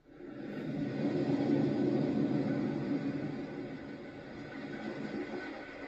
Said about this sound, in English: Now we'll do ocean.